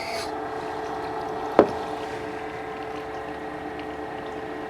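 A knife is sharpened on the edge of a Tormek grading stone on a wet grinder, giving a steady, even whirring drone throughout with one sharp knock partway through; no voices.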